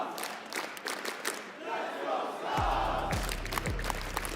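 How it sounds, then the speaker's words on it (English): Esports crowd at the BLAST R6 Major in Copenhagen, a Rainbow Six Siege finals event, rising into chanting and cheering across a large arena, steady and fairly loud with rhythmic low thumps in the second half. "Starting to get some of those chants out in the crowd as well, Tim."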